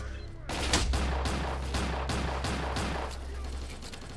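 Rapid bursts of gunfire in the video game S.T.A.L.K.E.R. Lost Soul, about eight shots in a quick rhythm, loud and close, ending in a lingering echo.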